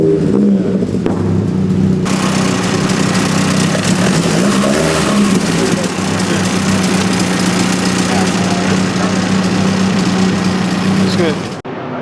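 A car engine runs at the Wekfest Los Angeles car show, with a loud, steady idle and a rumbling low drone that holds throughout, then cuts off abruptly near the end; voices talk nearby.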